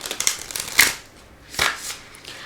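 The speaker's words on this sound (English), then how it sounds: "I'm shuffling and taking out the cards one by one" Tarot cards being shuffled and drawn one at a time produce short crisp riffles and flicks, two main bursts separated by a quiet pause, close and fairly soft.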